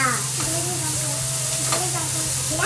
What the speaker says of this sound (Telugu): గ్రే కలర్ లో వచ్చేంత వరకు ఇక్కడ ఫ్రై చేసుకోవాలి